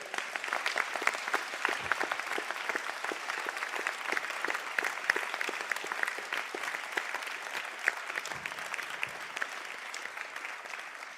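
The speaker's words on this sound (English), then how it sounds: "I think that deserves a round of applause." A large audience applauds graduates after they move their tassels at a college conferring ceremony in Sligo. The clapping is dense and steady in a hall, holding at an even level throughout with individual claps standing out.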